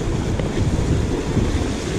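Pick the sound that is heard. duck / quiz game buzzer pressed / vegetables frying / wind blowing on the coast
wind blowing on the coast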